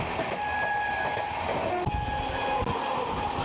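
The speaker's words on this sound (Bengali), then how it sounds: "বন্ধুরা আমাদের ট্রেন এখন ক্রস করবে হচ্ছে দমদম জংশন।" Gangasagar Express with LHB coaches running near Dum Dum Junction, a steady loud rumble of wheels and carriages with a sustained horn tone sounding through much of the run.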